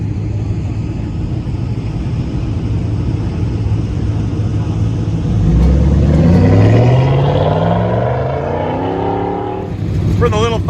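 Pontiac Firebird with T-tops runs an autocross course, the engine's rumble swelling as the car passes close by with rising revs, then fading. Another engine revs sharply near the end.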